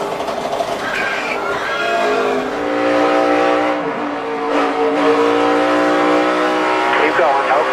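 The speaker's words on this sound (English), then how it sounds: "We're in the wall. Spinning," A NASCAR stock car at a 2011 race spins after hitting the wall, its engine roaring loudly and close with rising and falling revs and tire scrub, under a crackling radio voice.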